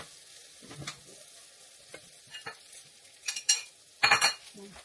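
An eggplant omelette (tortang talong) cooking in a pan gives a low, steady sizzle broken by sharp scraping and spatula bursts that grow louder and more frequent toward the end, with no voices.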